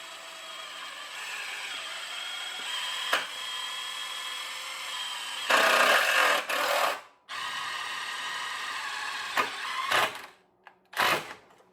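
Number 2 TEK screws are driven by a power drill on a 48v Falcon Elite lithium conversion kit: a steady whirring motor hum, then louder bursts of screw driving broken by short pauses and stops.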